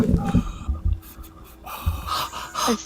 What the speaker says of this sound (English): is anybody else hearing like really heavy breathing?